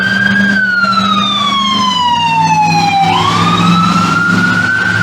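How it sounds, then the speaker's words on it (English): A fire truck or other emergency vehicle siren wails loud and close, its tone sweeping down and then rising again over a low engine rumble. "Like police cars or an ambulance or a fire truck go roaring by somebody."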